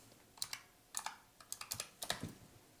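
Keys tapped on a computer keyboard in short quiet bursts, a few clicks, a pause, then a quicker run of keystrokes, close and isolated with no talking.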